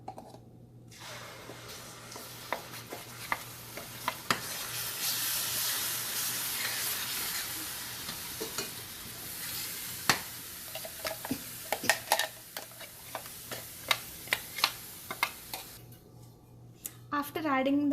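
Ground coconut mixture for kofta curry sautéing in a pan: a steady hiss of frying with scattered clicks of stirring, close and moderately loud, with a low hum underneath.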